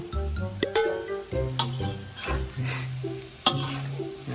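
Oysters and sauce being stirred in a hot pan: quick scraping strokes and clinks over a low sizzle, in short irregular bursts close by.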